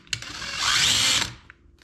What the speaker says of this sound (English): Now I'm going to take a 7/64 drill bit and just drill three holes.